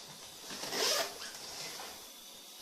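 A single quick zip on a school bag's front pocket zipper, a faint, brief rasp rising and fading in quiet surroundings.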